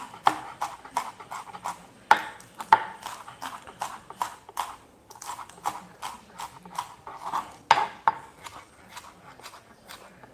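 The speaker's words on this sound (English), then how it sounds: "I'm going to cut the scallion up as small pieces as possible." Scallion being chopped into small pieces with a knife on a cutting board: quick, rhythmic, crisp knocks of the blade striking the board, close and even, with no talk.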